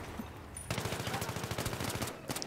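Suppressed pistol fire in Battlefield 3 rings out as a rapid run of sharp, loud, evenly spaced cracks with no voices, ending in a quieter pause and then a last couple of shots.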